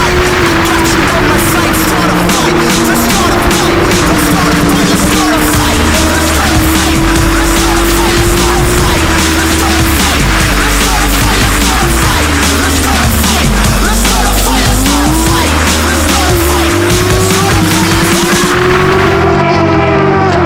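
RUSH SR race cars in a GridLife RUSH Series race at Laguna Seca, engines droning loud and close with rising and falling pitch, tires squealing through corners, a continuous dense roar with faint commentary beneath.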